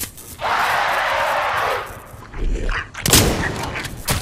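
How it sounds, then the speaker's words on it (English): Shotgun fired in a video game, a loud burst with scattered blasts and thuds over a few seconds, with game noise in the background. "I'm testing my shotgun."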